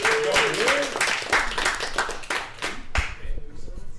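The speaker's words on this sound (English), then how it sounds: "So a nice clap for Kevin." Audience applause at a company meeting, many hands clapping together in a steady burst that fades toward the end, with voices and cheering mixed in over the claps.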